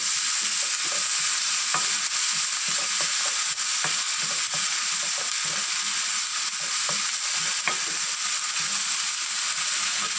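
Onion paste and ginger-garlic paste fry in a pan for a broad bean and dried prawn masala curry. A loud, steady sizzle runs throughout, with scattered stirring clicks and no talking.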